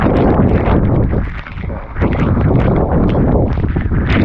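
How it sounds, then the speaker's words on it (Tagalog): Strong typhoon wind roars loud and steady against a flooded house, a dense, buffeting rush with a brief lull near the middle before the gusts surge back. "Yung malakas pa yung hangin"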